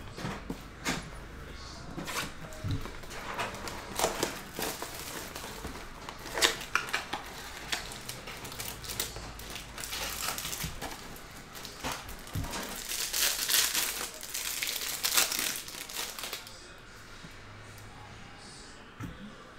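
Trading card packs from an NBA Mosaic cereal box are ripped open, giving close, sharp crinkling and tearing of wrappers in irregular bursts that build for most of the stretch before fading to quieter handling.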